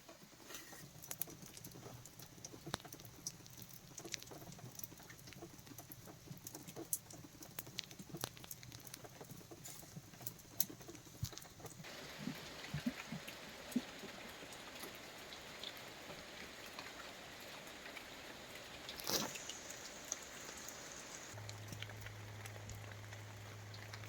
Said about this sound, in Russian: льет дождь без перерыва